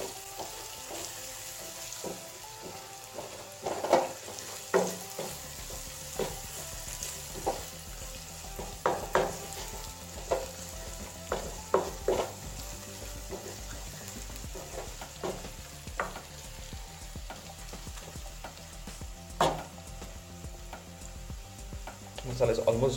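Onion masala for rajma sizzles steadily in oil, the spoon scraping and stirring it with repeated clinks and scrapes against the pan, close and clear with no talking.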